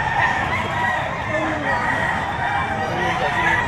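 Chickens and roosters at the Padre Garcia livestock auction market in Batangas cluck and crow continuously in a dense, loud chorus of many birds crowded close together.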